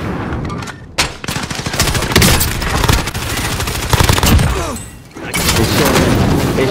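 Rapid video game gunfire crackles in loud bursts of shots and automatic fire, with short pauses between volleys and a brief lull near the end before firing resumes.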